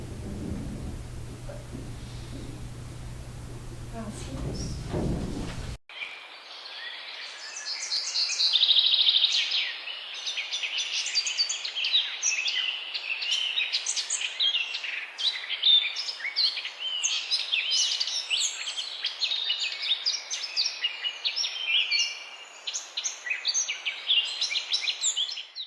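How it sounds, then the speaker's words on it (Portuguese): Birds sing and chirp in Praça Osório town square, a steady stream of overlapping high calls after a brief low rumble at the start. "alguns sons de pássaros e de animais que por ela passam ou vivem"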